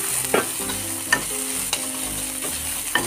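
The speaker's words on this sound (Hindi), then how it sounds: "थोड़ी देर इसको अच्छे से फ्राई कर लूंगी।" Coconut, ginger, bay leaf and green chili fry in a pan, a steady sizzle running throughout while a utensil scrapes and stirs at regular intervals, about four sharp clinks standing out; no voices.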